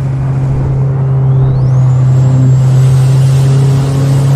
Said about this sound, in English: You can hear that turbo build up.